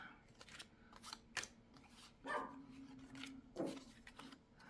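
Several short barks from a dog indoors at a window, spaced unevenly, with light clicking and rustling between them.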